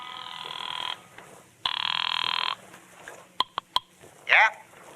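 An old telephone bell rings in two long bursts in a radio drama, followed by clicks and a brief squeaky handset noise.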